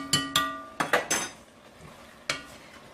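Vegetables with onion being stirred in a pot, several sharp metallic scrapes and knocks of a spoon against the pan in quick succession, close up, with a faint sizzle underneath and no talking.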